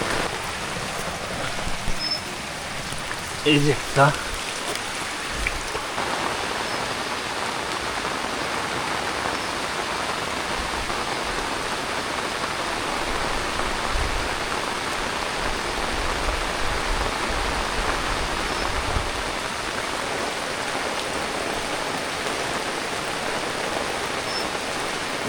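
Steady rain pours onto a rooftop garden in a continuous broadband hiss, with a voice briefly speaking early on over the downpour.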